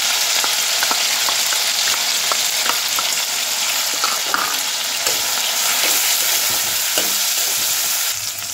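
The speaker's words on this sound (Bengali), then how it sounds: "এই তেলের মধ্যে দিয়ে দেব আদা বাটা, কাঁচা লঙ্কা বাটা" Ginger paste and green chili paste frying in hot oil give a dense, continuous sizzle close up, dotted with small stirring clicks and scrapes throughout.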